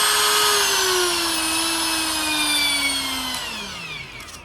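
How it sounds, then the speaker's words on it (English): An Ingco full-size die grinder with 6 and 8 mm collets runs at 30,000 RPM, giving a steady, loud high-pitched whine whose tone sags slightly before it winds down at the end, with no talking. "This is a full size die grinder, not like mini rotary tool."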